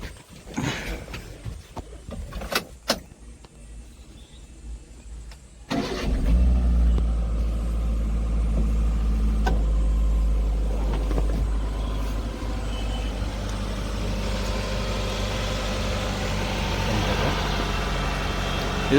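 A 2023 Maruti Super Carry CNG mini truck starts after a few clicks and knocks, then its engine settles into a loud, steady idle with a deep low rumble, close by and alone.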